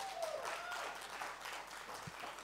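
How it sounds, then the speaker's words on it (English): An audience at an Innovation Africa 2018 higher education session applauds South Africa's deputy minister, a short burst of moderately distant crowd clapping that holds steady throughout. "South Africa always gets a big cheer"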